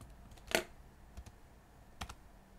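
A few isolated keystrokes on a computer keyboard enter coordinates, soft close clicks spaced apart in an otherwise quiet room.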